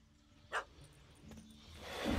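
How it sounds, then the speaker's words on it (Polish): A dog gives a single short bark at mid distance in The Witcher 3 video game (Hearts of Stone wedding games). Quiet ambience follows and swells toward the end, with no talking. "Nie chcę męczyć psa."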